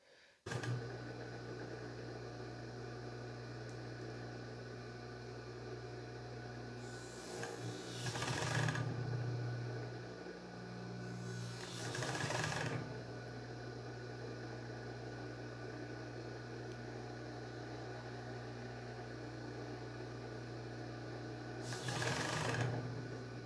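An electronic embroidery machine hums steadily while its blade cuts thread in three short, brighter rasping bursts, close and fairly loud, with no talking.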